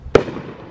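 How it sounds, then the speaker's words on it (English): A single firework bursts with one sharp, loud bang, followed by a short, fading rumble. "Yeah, these fireworks are pretty nice"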